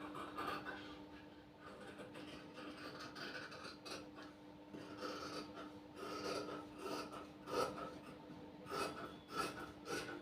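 Scissors cut through fabric for a size 38 blouse on a tailoring table, giving faint, uneven rasping snips and rubbing strokes over a steady low hum. The strokes grow slightly more distinct toward the end.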